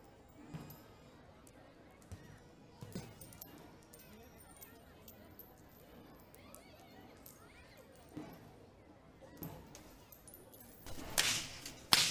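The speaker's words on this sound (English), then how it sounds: "Walking up front with the sound of thundering whips piercing through the skies are the whip crackers announcing that the procession has commenced." Whip crackers lead a Kandy Esala Perahera procession in Sri Lanka, their whips snapping in sharp cracks scattered through a distant crowd ambience, with a louder burst of cracks near the end.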